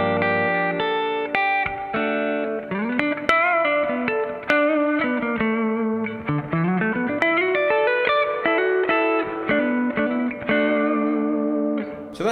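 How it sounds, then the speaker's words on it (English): Electric guitar on the neck pickup playing a blues song, a flowing single-note line with bends and sustained notes, bright and continuous with reverb and a light effects sheen. "So that's the sound of the neck pickup"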